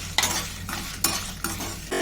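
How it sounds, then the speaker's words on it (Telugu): Spices, coconut and dried red chillies dry roasting in a pan, with soft sizzling and several sharp scraping stirs of a spoon against the metal, quiet and close. "ఇప్పుడు వీటినన్నిటిని డ్రై రోస్ట్ చేసుకుందాము"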